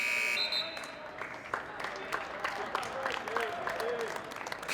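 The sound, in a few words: basketball game buzzer sounding at the end of the shot clock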